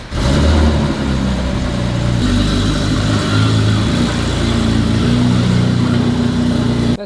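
A Porsche 997.2 GT3, a rear-engined sports car, runs loudly and close as it is pulled out, its engine holding a steady deep drone with slight rises in revs and no talk over it.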